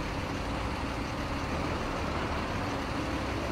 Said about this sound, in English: Six 25 buses are leaving the high school.